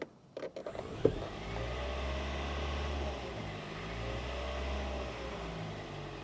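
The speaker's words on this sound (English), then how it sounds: "And let's go and rev up the motor." A car engine revs up from idle, its steady droning rise and hold filling the clip after a few short clicks at the start, fairly loud and close with no talking.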